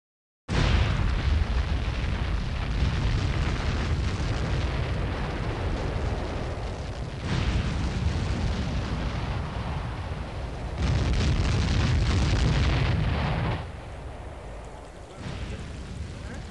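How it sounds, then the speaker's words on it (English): Lava explosions burst from a volcano crater in the video game Little Big Adventure 2, a dense, continuous roaring rumble with heavy low booms that swell and drop in surges, loud throughout with no voices. "Emerging from the crater of the volcano, amid a shimmer of lava explosions"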